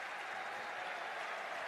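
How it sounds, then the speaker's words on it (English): Crowd applause at a high school football game as a quarterback leaves the field, a steady, dense wash of clapping held at an even, moderately distant level throughout. "they're going to give him a round of applause"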